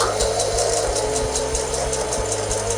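A sewing machine runs steadily while sewing a narrow satin stitch on a green Celtic shamrock mug rug, a continuous close whirring hum with rapid regular needle pulses throughout, no talking.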